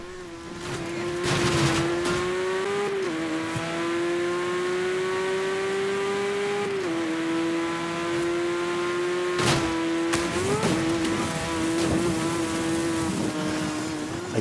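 A Nissan GT-R drives in a racing video game, its engine holding a continuous droning whine that dips and shifts in pitch at gear changes, loud and alone with no voices.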